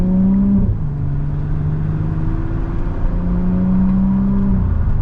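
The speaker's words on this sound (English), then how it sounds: "I love those high RPM shifts" A Stage 2 Audi S4 engine revs hard inside the car, its tone climbing and dropping through high-RPM gear shifts in a loud, close, continuous drone.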